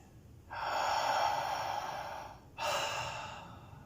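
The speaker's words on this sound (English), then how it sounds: "I'm just going to breathe." Deep breathing during a breath-work session: one long, steady exhale of about two seconds, then a short break and a second strong breath, close and without talk.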